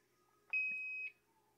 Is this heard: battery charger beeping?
yes